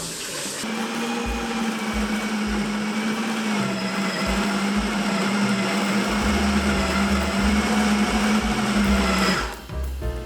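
A food processor whirs loudly and steadily, close by, as it blends a no-bake chocolate coconut mixture, then cuts off near the end.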